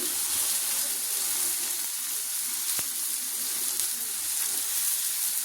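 Steady hissing sizzle of Bombay duck (lote fish) frying in hot oil, continuous and fairly soft, with a faint clink partway through.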